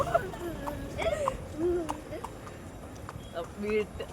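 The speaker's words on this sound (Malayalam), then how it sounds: "നമ്മൾ രണ്ടും മാത്രം കുതിരപ്പുറത്ത്" Close, rhythmic hoofbeats come from a horse carrying two riders at Vagamon, steady clip-clopping running under nearby talking voices.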